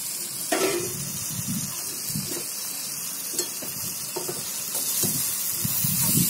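Ginger, garlic and green chili paste with spices frying in a pan, a steady hissing sizzle with recurring scrapes and knocks of stirring close by.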